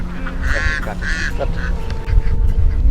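Ducks from a flock of about 700 raised on an open wetland quack in short nasal bursts, several calls in a row, close by over a steady low rumble of background noise.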